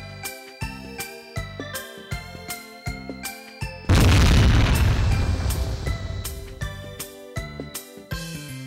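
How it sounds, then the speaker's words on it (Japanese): A single booming bomb blast in a PS2 anime assassination game bursts over a plinking, rhythmic background music loop. It is loud and noisy, then fades back into the jingle with no voices. "やっぱ気合を入れるにはボムの音を聞くに限るぜ"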